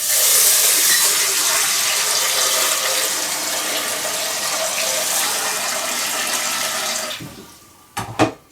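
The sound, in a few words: washing rice in a bowl of water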